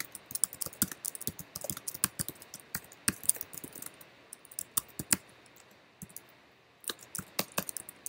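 Computer keyboard keys clack in quick, irregular bursts while code is typed, close and fairly quiet, with short pauses between runs of keystrokes and no talking.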